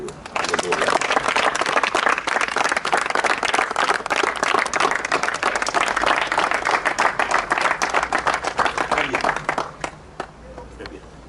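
Congregation at a water baptism church service breaks into sustained loud applause, dense rapid clapping from many people that stays strong for about nine seconds before thinning out at the end.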